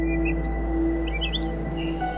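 Adarna bird's song in a Filipino folktale retelling, heard as a few short high chirps and tweets scattered over a steady low hum and tonal background drone, moderately faint.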